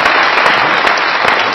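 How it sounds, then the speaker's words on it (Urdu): A comedy show audience applauds loudly and continuously, with dense clapping throughout. "تالیاں میرے لیے، تالیاں"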